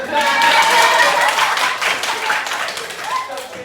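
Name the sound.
audience applause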